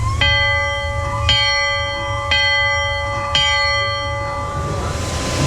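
A riverboat bell rings four times at steady, spaced intervals, each clear metallic strike ringing out and decaying, with a low rumble underneath.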